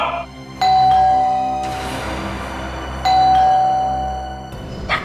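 A doorbell chimes twice in succession, loud and close, each a ringing two-tone ding-dong with a sustained tail, in an otherwise quiet room.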